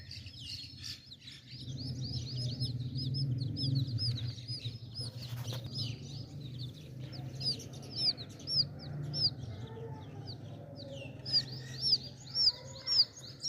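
Rapid, high peeping chirps from young birds, repeated in bursts and growing more frequent toward the end, over a low steady hum of background noise.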